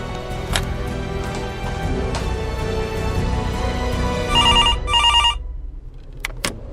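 A telephone rings through two short double-burst trills on a call, loud and near over a steady low background hum, then stops abruptly.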